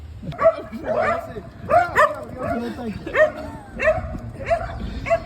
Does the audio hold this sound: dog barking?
yes